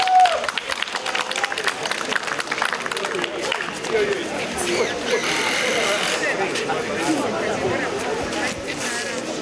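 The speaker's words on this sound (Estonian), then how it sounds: "Vallavanem Taavi Aas, teeme aplausi, võtame ta vastu." Outdoor crowd at a country fair and exhibition in Palamuse, Estonia, clapping in a steady, moderately loud patter over a busy background of voices.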